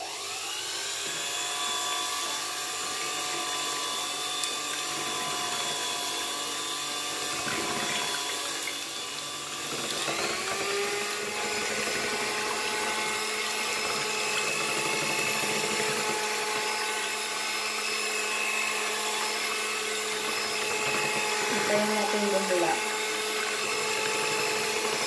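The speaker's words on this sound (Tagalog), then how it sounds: "by using the electric mixer." An electric hand mixer whirs steadily while whipping egg whites for a custard cake, a continuous close motor whine with shifting pitch as the beaters move through the bowl, alone without speech.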